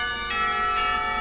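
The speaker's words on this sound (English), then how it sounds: "The ringing of the bell prevents her from demonstrating her point further." A school bell rings in the Katawa Shoujo visual novel game, a sustained metallic clang rich in ringing overtones, loud and continuous, with repeated strikes swelling the tone.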